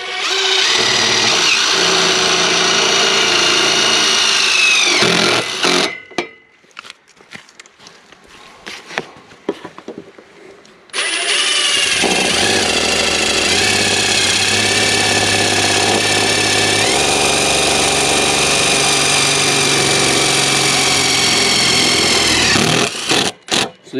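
Power drill driving self-tapping screws into aluminum during a high tunnel build, loud and close, with a steady motor whine broken by a quiet gap midway before a long second run.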